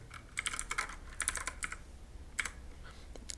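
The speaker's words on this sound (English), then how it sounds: "and then just type the address here" Fingers type an address on a computer keyboard, quick clusters of crisp keystrokes in short bursts with pauses between them, close and fairly quiet.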